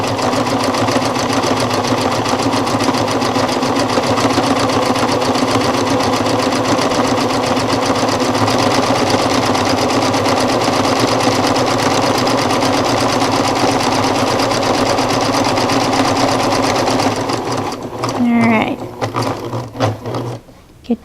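A sewing machine fitted with a walking foot stitches through heavy fabric with A-line lining, a loud, continuous rattling whir for about seventeen seconds, then a few short halting bursts and clicks as the foot is lifted and lowered.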